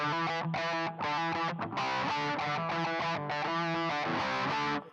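Electric guitar played through the turbo distortion of a Boss ME-90 multi-effects unit, with thick, sustained distorted chords in a steady, choppy rhythm, loud and close, with no voice.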